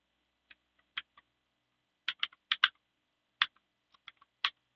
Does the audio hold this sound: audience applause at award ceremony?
no